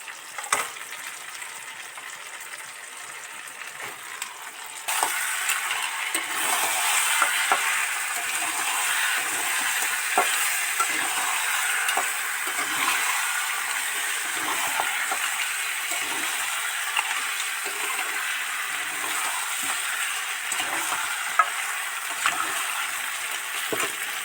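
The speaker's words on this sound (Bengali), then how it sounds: "মশলা আলু থেকে সব তেল ছেড়ে গেছে উপরে বুজবুজ বুজবুজ করছে তেলগুলো" Spiced potatoes and crab fry in bubbling oil, a continuous close hiss and crackle with frequent small pops and bubbling, steady in level throughout.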